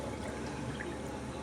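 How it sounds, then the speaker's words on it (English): Luffa water is poured back into a container, giving a brief, continuous trickling splash up close with no talk. "I'm going to actually pour this back in here."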